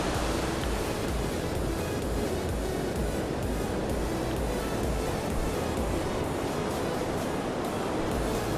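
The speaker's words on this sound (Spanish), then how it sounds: "Vea las olas que se forman allá al final." Ocean waves break on a beach at Punta Banco, a dense, roaring wash of surf and wind that stays loud and continuous throughout, with no voices.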